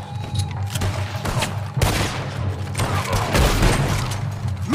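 Gunshots ring out in a Red Dead Redemption 2 firefight, sharp cracks and volleys hitting in clusters with booming impacts, loud and near, layered over constant game background noise.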